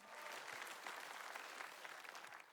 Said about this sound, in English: let's give a special round of applause to Sanjay